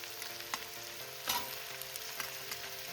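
Diced capsicum and potato for a dry, spicy curry frying in a pan, giving a continuous soft sizzle with a few small pops and stirring clicks and no talking.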